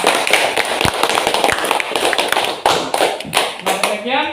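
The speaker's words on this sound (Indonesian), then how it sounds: "tepuk tangan buat dia." Classroom applause from students, a dense patter of many hands clapping close by for several seconds, with voices talking over it and a rising spoken tone near the end.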